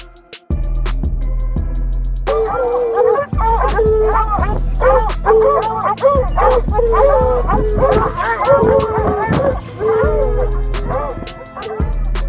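A pack of dogs surrounding a lone wild cat on a hillside bark, yelp and whimper in rapid overlapping bursts, loud and close, over a continuous background bed after a brief quiet start.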